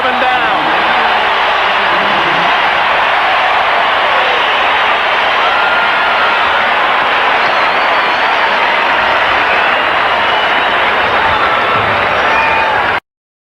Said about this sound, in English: Listen to the cheer for the Broncos, who rallied from 17-7 down.